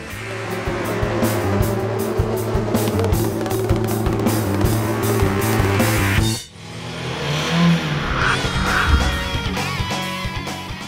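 IndyCar race cars at a racetrack: a loud, sustained engine drone with whining harmonic tones that shifts in pitch as the cars pass close by, then a brief dip and a changing roar.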